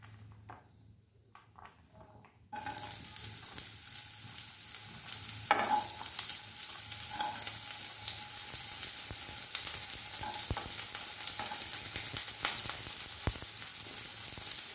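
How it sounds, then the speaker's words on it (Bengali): Onion and two dried red chillies hit hot oil for a Bengali mixed vegetable dal, bursting into a loud, steady sizzle after a brief quiet start and crackling on close by with occasional stirring scrapes. "এগুলোর মধ্যে আমি প্রথমে দিয়ে দিচ্ছি পেঁয়াজ"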